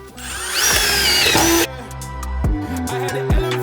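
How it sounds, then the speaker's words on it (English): Power tool tacking decking boards on a large deck build, with a loud whirring drive that cuts off, followed by rhythmic mechanical bursts and thumps nearby. "So I'm tacking the first and last board, and then Evan's filling in the middle"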